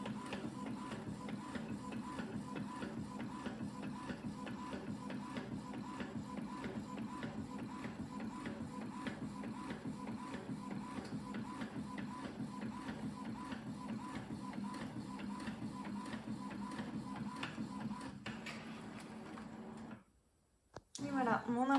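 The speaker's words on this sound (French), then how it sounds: "Donc c'est parti pour l'impression." A home printer printing labels that will be cut with a Cricut machine: a continuous mechanical whir and rhythmic feed chatter for about twenty seconds, ending with a brief clunk as the page comes out. A voice speaks faintly underneath.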